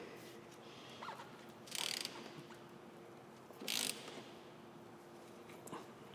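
A motorcycle chain breaker and riveter tool being tightened, giving two short bursts of ratchet-like clicking over a quiet, steady background hum, close and faint.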